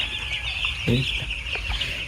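Chickens in a hot poultry shed, during a power cut, cluck briefly and softly over a constant high-pitched peeping or chirping background.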